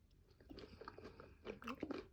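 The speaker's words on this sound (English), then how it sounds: "at this point is where I'm going to give it a taste" A bite of farro salad is chewed up close, with soft, quiet crunching and moist mastication sounds that grow busier toward the end.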